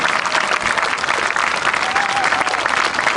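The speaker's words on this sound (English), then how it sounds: "Give them a round of applause for their service to the United States." A dense, steady wash of applause from a large crowd at an outdoor Veterans Day ceremony in a park square, loud and sustained throughout with no talking.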